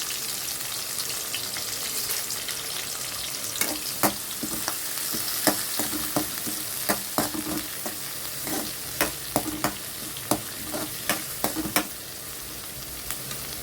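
Curry leaves, a large onion and slit green chilies fry in hot oil with a constant loud sizzle. Through the middle stretch, sharp spluttering pops and stirring clatters burst out at irregular intervals, and no one speaks.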